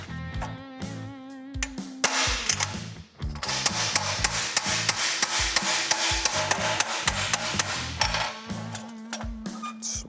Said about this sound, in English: And then we'll just hammer here and try to straighten this out first.